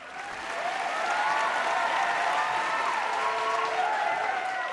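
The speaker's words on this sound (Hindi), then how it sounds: "जोरदार तालियों के साथ स्वागत कीजिए" Studio audience applause welcoming a contestant on a talent show stage, a dense, steady wash of clapping swelling in over the first second and holding through to the end.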